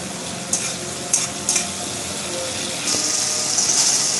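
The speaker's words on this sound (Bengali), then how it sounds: "এবারে এতে দিয়ে দেবো আদা বাটা আদাটাও ভালো করে ভেজে নেব" Ginger paste fries in a pan with softened tomato while being stirred for khichuri, a steady sizzle with a few scraping stirs and a louder hiss toward the end, no talking.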